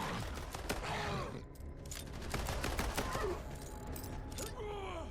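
Rapid pistol fire in the Borderlands Mobile game, a dense run of sharp cracking shots with bursts and pauses over a loud, busy game soundtrack.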